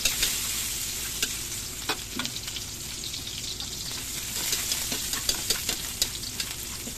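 Garlic sizzles steadily in a little hot cooking oil, a continuous bright frying hiss broken by small crackles and the occasional scrape of stirring, close and fairly loud with no talking.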